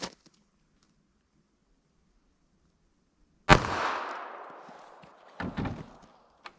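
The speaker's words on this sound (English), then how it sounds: "Let's see how our 380 ACP does." Single .380 ACP pistol shot firing a Magtech JHP round, a sharp loud crack with a decaying echo, followed by a few fainter thumps.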